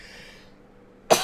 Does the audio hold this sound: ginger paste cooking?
no